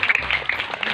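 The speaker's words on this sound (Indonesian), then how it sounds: "Tepuk tangan untuk Hadroh Hikmah." Short burst of audience clapping for a hadroh music group at a sholawatan event, quick uneven claps close by.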